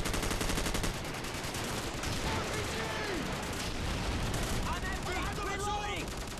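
Dense, rapid gunfire as rifles shoot through a wall in Call of Duty 4, continuous loud automatic bursts with sharp cracks throughout, with a faint voice briefly underneath.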